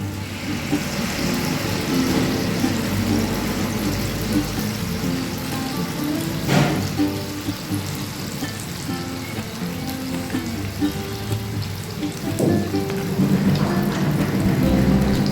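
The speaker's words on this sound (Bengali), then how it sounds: "এইভাবে ডিপ ফ্রাই করবো" Capsicum and corn malpua batter, ladled in one scoop at a time, deep frying in oil over a low flame, with a steady broadband sizzle and crackle throughout and a couple of sharper pops.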